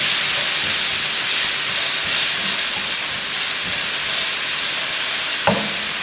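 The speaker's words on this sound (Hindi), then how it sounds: "इसको हल्का सा फ्राई करेंगे" Garlic and chopped carrots fry in hot oil for chicken pasta, giving a loud, steady sizzling hiss with a single brief knock near the end.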